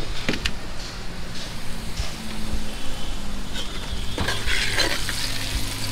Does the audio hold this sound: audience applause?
no